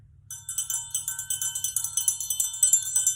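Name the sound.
triangle played by running the mallet around it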